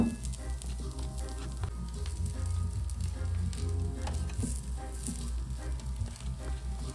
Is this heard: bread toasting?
yes